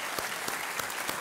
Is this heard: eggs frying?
no